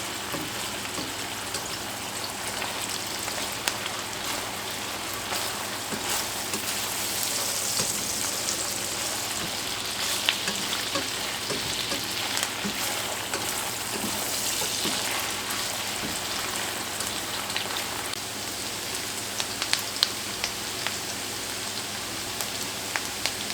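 Onions caramelizing in butter in a pan during a zucchini stir fry give off a steady, close, crackling sizzle like light rain that holds for the whole stretch, with no voices.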